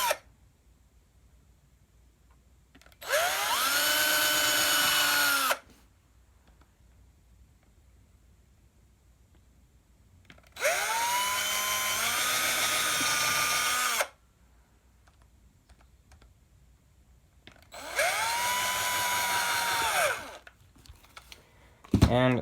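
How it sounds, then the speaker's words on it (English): A power drill with a small bit drills into a shoe sole, whining in three separate bursts of a few seconds each, its pitch rising and settling, with quiet pauses between and no talking. "of course you want to put a smaller bit in your drill."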